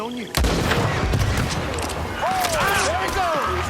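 Gunfire bursts out in a Red Dead Redemption 2 outlaw shootout after dynamite crates are shot: a sharp opening blast, then rapid overlapping shots and booms, with voices shouting through it.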